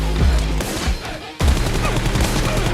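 Gunfire in the mobile shooter PUBG Mobile during a team deathmatch, dense rapid bursts of shots with a brief pause midway before the firing resumes, loud and close with no talk over it.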